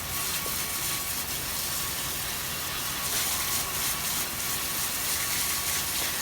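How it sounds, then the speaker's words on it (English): Water hose spraying down freshly powder-coated car rims straight out of the curing oven, a steady broadband hiss of spray running continuously and fairly loud throughout, with no talking. "We're going to go ahead and just spray them down with water just so that way we can have them cool down a lot quicker."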